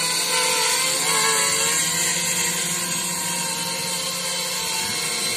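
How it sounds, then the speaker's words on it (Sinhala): Arris 250 FPV quadcopter drone descending in auto-landing mode, a steady loud whining buzz of propellers with slight pitch wavering and a faint easing toward the end, no talk. "මෙයා පොළොව මට්ටමට ඇවිල්ලා එයාගේ ප්‍රොපෙලර්ස් නවත්තනවා."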